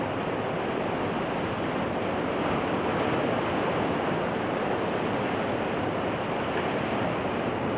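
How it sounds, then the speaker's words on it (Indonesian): Indian Ocean surf on the south coast of Kebumen, Central Java, rushing in a loud, continuous roar with steady wind noise and no voices. "Ini Samudra Hindia di pesisir selatan Kebumen."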